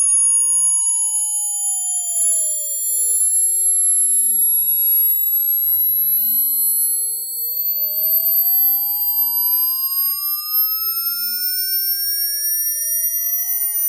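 A Xiaomi Mi TV Soundbar plays high-frequency sine test tones above 16,000 Hz, a thin, steady whine at the top of the range. Fainter sweeping tones glide down and back up beneath it, with no voices.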